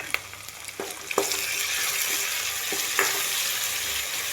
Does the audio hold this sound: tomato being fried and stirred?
yes